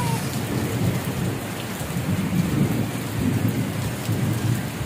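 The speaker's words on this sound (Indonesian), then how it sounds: "Lagi hujan deras, guys." Heavy rain pours steadily at a cattle pen, a dense continuous roar with low rumbling underneath, constant in loudness throughout and no voices.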